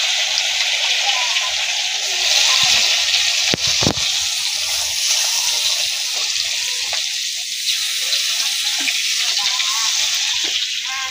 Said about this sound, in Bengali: তেল গরম হয়ে গেছে, এখন মাছ একটা একটা করে ছেড়ে নেব।